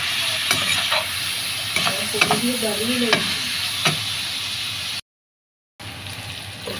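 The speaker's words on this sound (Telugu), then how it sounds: "వంకాయ అయితే బాగా మగ్గిపోయిందనమాట వీటిలో నూనెలో అయితే." Brinjal pieces cook in oil with salt, giving a steady sizzle with intermittent stirring scrapes and clatter, briefly cutting out near the end before the frying resumes.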